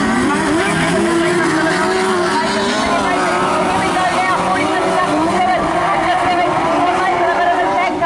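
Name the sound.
speedway sidecar racing engines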